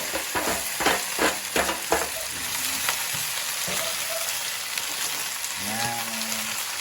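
Vegetables with onion and garlic sizzling and frying in a pan, a steady hiss with a few stirring scrapes and clatters early on, close and continuous.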